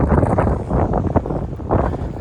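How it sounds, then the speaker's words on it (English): Gusty wind buffets the microphone outdoors around the remains of the Indian Mound Mall in Heath, Ohio, a steady low roar with swelling rushes and no speech. "I apologize if it's rather windy"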